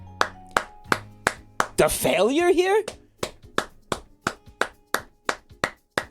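Slow, sharp hand claps ring out one after another in a steady rhythm, briefly interrupted by a burst of loud speech before the clapping resumes alone.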